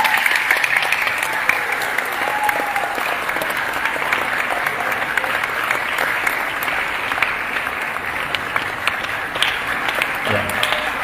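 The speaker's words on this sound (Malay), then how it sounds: "tepuk tangan lama lagi" A large audience at a Quran gathering in a mosque applauds with sustained, dense clapping, loud and continuous throughout, with a voice briefly heard near the end.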